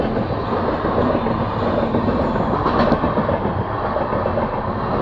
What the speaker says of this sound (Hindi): ये ट्रेन है पटना से बिलासपुर